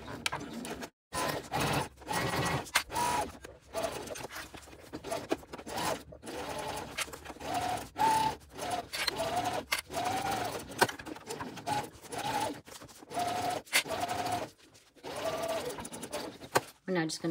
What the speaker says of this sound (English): Sewing down this side, and then we'll continue around the bottom and up the other side at 3/8 of an inch